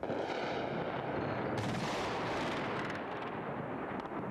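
Heavy, continuous rumbling with booming blasts rolls through the air, dense and muffled like far-off explosions, from bombing west of a city in Iraq during the war, with no voices.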